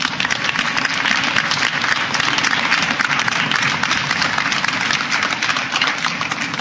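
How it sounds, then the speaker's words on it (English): An audience applauds at a para-equestrian awards ceremony. The applause is dense and continuous, with many hands clapping at an even level for the whole stretch. "Give her a warm round of applause, everyone."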